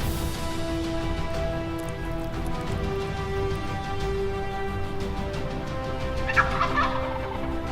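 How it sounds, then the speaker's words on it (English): Wild turkey gobbling in full strut behind a tree, several rattling gobbles standing out over a constant patter like rain, with one brief louder burst near the end. "This bird is in gun range, but standing behind a tree in full strut, gobbling his head off"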